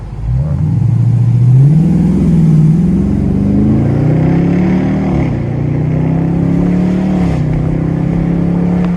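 A Dodge 392 Scat Pack accelerates hard from a standstill toward 60 mph in Mexico City traffic, its V8 roaring loud and close as the engine note climbs steadily through the gears, with brief dips at each shift.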